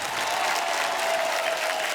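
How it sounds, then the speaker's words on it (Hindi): Loud studio audience applause welcoming actress Dia Mirza onto a comedy talk show stage, a dense, even roar of clapping and crowd noise that holds steady the whole time. "आप सबकी जोरदार तालियों के बीच प्लीज वेलकम दिया मिर्जा।"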